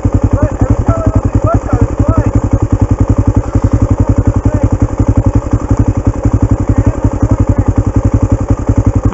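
A dirt bike engine runs steadily nearby in mud at Hollister, its rapid, even firing pulses loud and continuous throughout.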